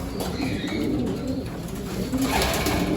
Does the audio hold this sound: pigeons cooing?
yes